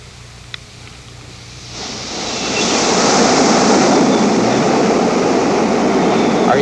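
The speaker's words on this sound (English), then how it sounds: "I'll bet you can hear the waves" Ocean waves played from a 1987 cassette tape recorder: a quiet hiss swells after a couple of seconds into a steady, loud, broadband rush of surf that carries on to the end.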